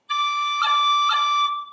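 G finger pips on a tin whistle in six-finger D position: one steady high note interrupted twice by short finger cuts, close and unaccompanied.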